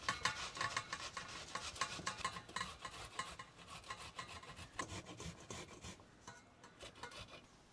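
Cassava (tapioca) root is rubbed hard against a grater plate, giving a quiet, steady rasping scrape in quick back-and-forth strokes that tails off near the end.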